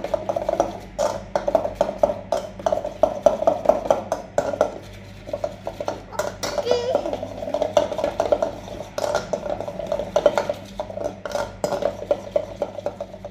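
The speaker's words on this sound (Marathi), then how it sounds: "बरे फेटपट मिक्स करूया एका फावटी" A yoghurt curry mixture with salt and turmeric is whisked in a bowl, giving a quick run of close, rhythmic metallic clinks and scrapes that stop briefly and then continue for several seconds.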